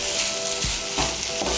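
Boiled chicken pieces are stirred with spices in a hot pan, giving a close, steady sizzle broken by a few soft scraping strokes of the spoon, with no talking.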